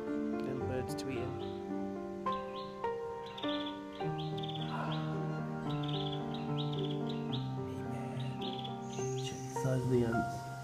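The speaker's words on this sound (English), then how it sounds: "Little birds tweeting." Small birds tweet and chirp steadily in Bali, their bright, rapid calls layered over a busy tropical chorus of insects and other birds, with a low background hum throughout.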